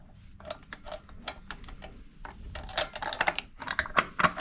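Wrench working a 15/16 nut on a riding mower, a series of quiet irregular metallic clicks and ratcheting ticks close by, growing busier toward the end.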